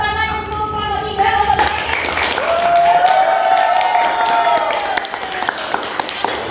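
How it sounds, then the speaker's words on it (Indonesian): Classroom audience applauds for group 3 at a high school, a burst of clapping that swells after a voice and holds steady for several seconds, loud and close. "Beri tepuk tangan untuk kelompok 3."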